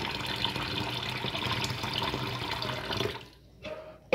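Water poured into a homemade tyre-black dressing mixture streams steadily and close for a few seconds, then stops, followed by a short splash and a faint clink.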